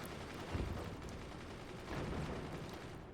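Gunfire from a gunner weapon in the strategy game Forts rumbles as a dense, sustained barrage of rapid shots, with overlapping booms and a steady crackle throughout.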